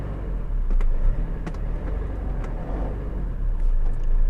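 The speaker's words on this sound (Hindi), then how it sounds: "तो चलिए मैं गाड़ी को चालू करता हूँ।" A used diesel Mahindra Scorpio idles with a deep, steady low rumble and a few sharp clicks and knocks over it, loud and close without distinct revving.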